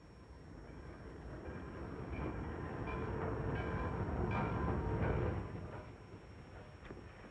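A train rolls along the rails with a steady rumbling roar that swells in the middle and eases off toward the end, heard without any talking.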